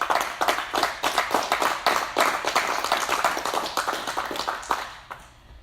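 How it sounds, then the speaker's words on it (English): Audience applause at a Taekwondo black belt ceremony honoring new black belts, a steady run of close, crisp hand claps that thins and fades out near the end. "Let's give them a big round of applause."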